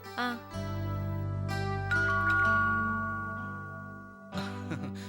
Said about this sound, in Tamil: காலிங் பெல் அடிச்சிட்டு இருக்கல யாருன்னு போய் பார்க்கலாம்ல